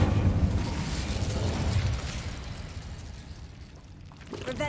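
The Incendio fire spell erupts in Hogwarts Legacy as a loud, sustained roaring whoosh of flame that starts strongest and slowly fades over a few seconds, with no voices over it.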